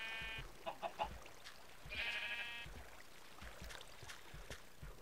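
Sheep in the Minecraft video game bleat in short, clear game-sound calls, several quick bleats followed by a longer one, set against a quiet background with faint low thumps.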